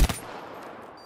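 Burst of gunfire in a competitive first-person shooter game, a quick rapid volley of shots at the very start that rings out and fades into quiet.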